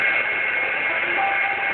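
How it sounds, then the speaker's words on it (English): An electric mixer beats egg whites with a good pinch of salt until stiff, making a steady, close, continuous motor whir with no break. "Now the first thing Richard's doing is to beat egg whites with a good pinch of salt until they hold very stiff teeth."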